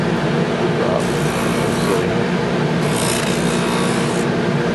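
A sander smooths the white vinyl edge of a shoe in a workshop, producing a loud, continuous abrasive rasp that holds steady throughout.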